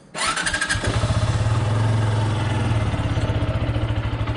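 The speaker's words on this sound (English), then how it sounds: "let's fire her up" A Zontes G1 Scrambler ZT125-G1 motorcycle, its engine already warm, cranks and catches, then settles into a steady, loud, close idle with a fast even pulse.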